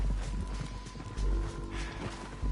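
Horse hooves clip-clop in a steady, close rhythm, joined by a brief whinny, with a low hum underneath.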